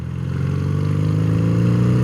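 A BMW R75/5 motorcycle engine pulls under throttle, its steady mid-pitched drone rising slightly as it accelerates, close and clear with no talk over it.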